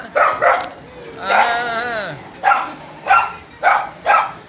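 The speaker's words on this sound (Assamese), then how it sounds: "এই কুকুৰকেইটাই দিগদাৰ কৰে" A few dogs barking at home with a visitor arriving, short loud barks in quick bursts and one drawn-out whining howl, close by.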